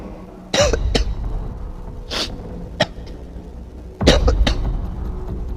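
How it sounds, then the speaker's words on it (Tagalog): A person nearby coughs in a few harsh bursts, pausing between fits, with a couple of sharp throat-clearing hacks. "Medyo inuubo at sinisipon po ang inyong lingkod."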